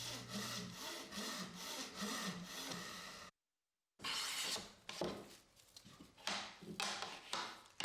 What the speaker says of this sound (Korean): 톱질을 하는 그의 손에 힘이 들어간다